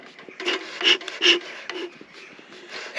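Beekeeping smoker bellows pushing air out through a non-return valve: a few soft, breathy puffs and rasping rubs close by, with faint squeaky accents, no talking.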